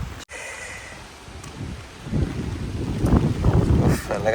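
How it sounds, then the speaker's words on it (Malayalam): Strong wind buffets the microphone over flooded paddy fields beside a swollen river, a steady rushing roar that builds louder and gustier toward the end, with a voice faintly present. "നല്ല കാറ്റുണ്ട്."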